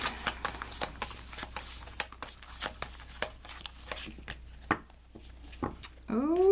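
Tarot cards are shuffled, handled and drawn, giving a run of quick papery riffles and soft slaps close by, with a brief sliding sound near the end.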